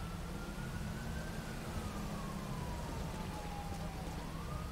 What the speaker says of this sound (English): it helps that it's raining at least